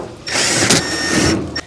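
A power driver runs screws back into the fan cage of an A/C condenser unit, a single close whirring burst of just over a second with a brief mechanical rattle at the end.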